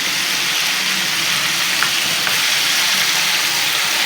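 Honey garlic fried chicken pieces crisp up on a second fry in hot oil, giving a loud, steady, dense sizzle that fills the whole stretch without pause.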